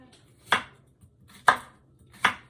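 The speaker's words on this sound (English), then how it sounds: "I've got me another huge clove of garlic that I'm going to mince up as mincy as I can" A knife chops a large garlic clove on a cutting board, giving three distinct, fairly close strikes spaced roughly a second apart with quiet pauses in between.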